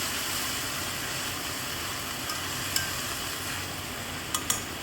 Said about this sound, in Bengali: শাকগুলোকে দেওয়ার পরে খুন্তির সাহায্যে উপর নিচ এদিক ওদিক করে শাকগুলোকে সুন্দর করে মিশিয়ে নিতে হবে।